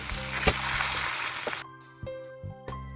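Drained rice hits garlic frying in hot oil for bakcang, a loud sizzle that cuts off abruptly, followed by a few sharp clanks of a utensil against the pan.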